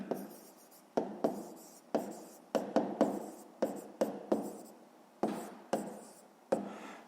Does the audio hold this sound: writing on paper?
yes